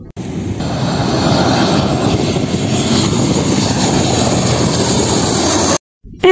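An aeroplane landing gives off a loud, steady engine roar with a rough, rumbling texture and a faint high whine. It holds at close range for several seconds before stopping suddenly.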